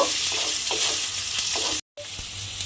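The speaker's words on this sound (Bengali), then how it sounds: "তেলের মধ্যে পেঁয়াজটা দিয়ে আমি একটু ভাজা ভাজা করে নিয়েছি" Onion paste frying in oil in a pan while being stirred, a steady close sizzle with soft scraping strokes of the spoon and a brief dropout near the end.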